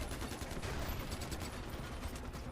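Gunfire in the shooter Far Cry 4, rapid bursts and scattered shots blending into a dense, steady crackle of battle noise, fairly faint and continuous throughout.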